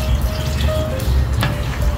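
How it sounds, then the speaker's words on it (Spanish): Whisky splashing into a hot pan of cuttlefish and cod, a short continuous liquid pour with faint sizzle, close and fairly loud throughout. "Voy a tirar el whisky"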